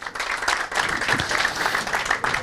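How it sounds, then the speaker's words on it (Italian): Brief audience applause welcoming a local councillor at a football club season presentation, a short burst of many hands clapping, fairly close and steady. "facciamogli un applauso."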